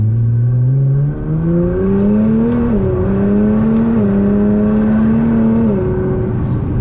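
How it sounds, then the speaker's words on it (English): A 600 whp Nissan GT-R on a stage 3 tune with full bolt-ons, larger air intake and fuel injectors, in race mode: a loud, close engine drone climbing in pitch, then dropping abruptly at several quick gear changes. "You can see just how quick those downshifts are in race mode."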